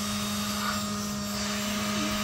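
A steady, loud electric air pump inflating a unicorn pool float drones with a constant tonal hum, running continuously without pause, close by.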